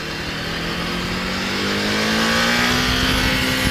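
An Erik Buell EBR 1190RX sport motorcycle's engine revs up loudly and close, its pitch climbing steadily through the midrange as it accelerates, with no talking.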